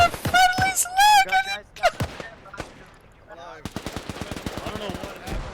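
Loud, rapid bursts of automatic gunfire sound in a video game, mixed with shouting voices early on and then a denser stretch of machine-gun fire toward the end.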